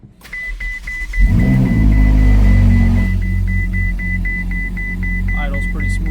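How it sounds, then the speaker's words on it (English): Ferrari 488 engine idling smoothly after a cold start, a steady close low hum with a faint repeating electronic beep over it and a brief rise early on. "Idle's pretty smooth on cold."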